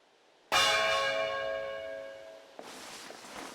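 A loud bell in Fire Emblem Engage strikes once and rings out with a bright, shimmering tone that slowly decays, then cuts off abruptly into softer background noise.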